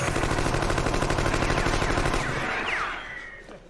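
A robotic scorpion's sting fires a loud, rapid machine-gun burst of shots close by, the rattling volley running steadily before trailing off into a fading ring and zinging ricochets.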